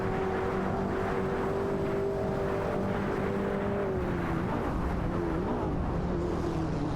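A Mazda RX-7 IMSA GTO and a Porsche 961 LM roar together in a racing video game, their high-revving engine tones holding steady then dipping and sliding as gears change, loud and unbroken throughout.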